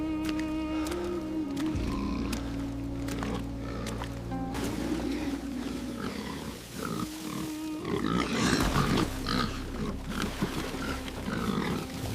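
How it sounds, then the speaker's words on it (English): Pigs grunting in pig pens, a dense mix of grunts and snorts under a steady low drone of music, growing louder and busier toward the end. "The pig pens. They must be fed, watched, and kept alive."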